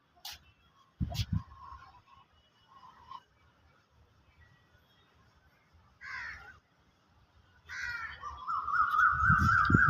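Crows cawing outdoors in Mahad, Raigad, with a few harsh calls scattered across the stretch and sounding fairly close, separated by quiet gaps, and a louder burst of repeated caws toward the end.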